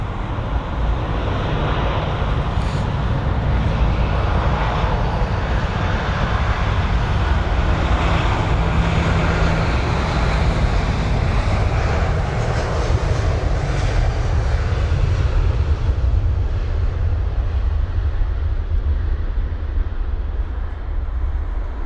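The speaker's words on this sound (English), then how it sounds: "So that's flight number AA135 of the American Airlines 777-200ER heading to Los Angeles, LAX." An American Airlines Boeing 777-200ER at London Heathrow makes a loud, steady broadband jet engine roar that stays close and constant throughout, with no voices.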